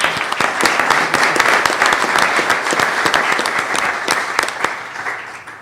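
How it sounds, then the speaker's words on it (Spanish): Audience applause at a genealogy conference, a dense, steady clapping from a seated crowd that stays loud and even for several seconds with no talk over it. "Un aplauso, por favor, para Gildardo Contreras Palacios."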